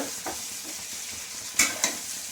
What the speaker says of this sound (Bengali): চিংড়ি মাছও ভাজা হলো, পটলও ভাজা হলো, পেঁয়াজও ভাজা হয়ে গেল